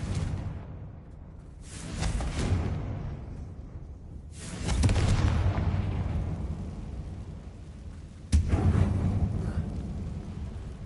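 In the Hogwarts Legacy video game, the Confringo fire spell is cast, and several heavy explosive blasts boom one after another. Each rumbles deeply and fades out slowly, and the last one hits with a sharp crack.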